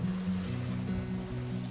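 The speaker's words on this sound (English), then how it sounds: "they got all these freshwater springs coming out of the ground all over the place" Freshwater spring water pours out of rock in wooded hills, a steady near rushing wash with a low rumbling undertone and no voices.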